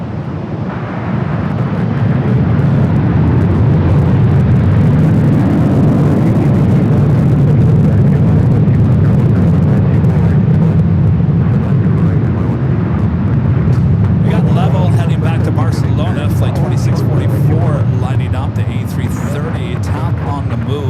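A Boeing 787-10 Dreamliner jet taking off at LAX, a loud sustained low roar of engines building and holding for many seconds, with talk over it.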